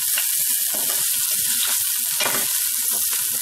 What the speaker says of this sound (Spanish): con nuestro ajo ya picadito vamos a empezar a saltear